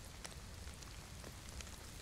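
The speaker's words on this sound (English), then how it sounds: "Oh no, it's raining." Steady rain falling in the video game DayZ, a continuous hiss of fine drops with a few sharper patters, faint and even throughout, with no talking.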